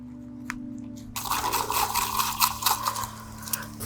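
Powder being stirred into water with a stick: after a short quiet start with a couple of faint taps, a steady wet swishing and scraping churn runs on, close and without talk.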